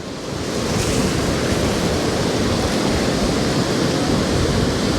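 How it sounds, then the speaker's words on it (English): Surf roars in a dense, steady rush of noise, loud and close, swelling slightly at the start and then holding constant. "The waves are coming in at an angle"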